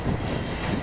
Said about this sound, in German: Und da ist der Zug.